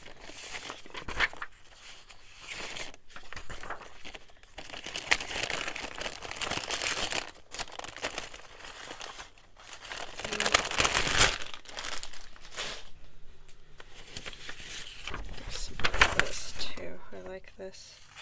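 Old paper for a journal cover is crumpled and torn close by in repeated crinkling bursts with pauses, and a person talks softly between the bursts.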